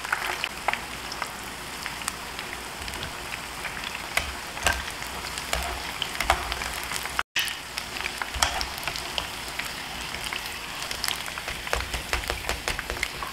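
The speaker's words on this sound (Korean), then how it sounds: "제대로 한 번만 이렇게 튀겼습니다." Hot oil sizzles and crackles steadily around chicken deep-frying for Chinese lajiji, a close, unbroken hiss with scattered pops and a brief cut in the middle.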